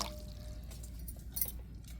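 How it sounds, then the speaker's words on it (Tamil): Water poured into an idli steamer pot while making a semolina cake, a faint, short trickle and splash with a few light drips, heard alone. "இட்லி சட்டியில் நம்ம தண்ணியை ஊற்றிக்கிடுவோம்."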